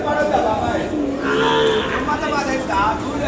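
Cattle and calves at a busy Ongole bull market, with a drawn-out moo rising above a dense crowd murmur, people talking all through it.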